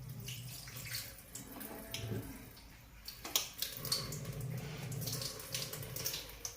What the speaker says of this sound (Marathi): हे सगळं पाणी आता असं निथळून काढायचं